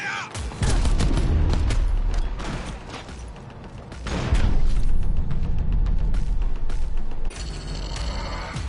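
Rapid bursts of video game gunfire crackle loudly in dense volleys, broken by short pauses and heavier booms, with a ringing electronic tone near the end.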